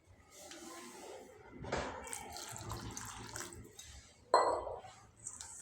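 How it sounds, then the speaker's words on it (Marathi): Water poured into moong masala idli batter in a bowl, with soft splashing and trickling that swells into a louder splash near the end, close and without talk. "आता मी पाणी यात टाकलेलं आहे"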